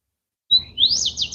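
A single bird sings in a short recording, giving a high thin note and then a quick series of rising and falling chirps, clear and close against silence.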